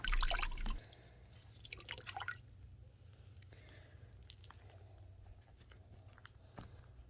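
Clean water rinses a scrubbed wooden nightstand, starting with a loud wet splash and scrubbing for about a second, followed by quieter intermittent drips and wet wiping sounds over a low background hum.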